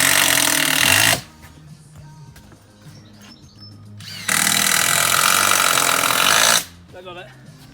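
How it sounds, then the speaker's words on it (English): A power driver runs screws into a timber building base in two long, loud whirring bursts separated by a quieter pause, heard close by, with a voice briefly audible near the end. "put a couple of screws in there, it's just temporary"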